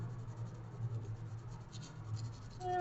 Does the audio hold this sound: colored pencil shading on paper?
yes